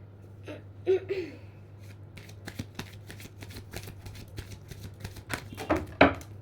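Tarot cards being shuffled by hand, giving a run of crisp riffling clicks and flutters at close range, with a steady low hum underneath and no talking.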